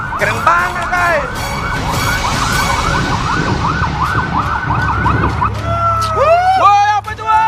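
An ambulance siren wails in a rapid, repeating up-and-down yelp, loud and nearby, mixed with busy background noise and chatter from a cooking competition set.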